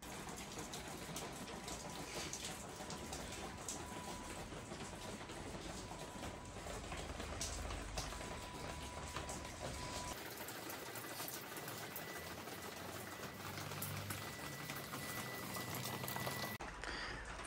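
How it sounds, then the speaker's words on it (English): Rain splashing in through an open roof onto walls on a building site where rafters are being extended onto a steel RSJ, a steady dense wash of falling water throughout, with a shift in texture partway and no talk. "it is raining and I left all this open by here and it's absolutely splashing in down the walls"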